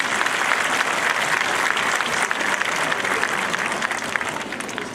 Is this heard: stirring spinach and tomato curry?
no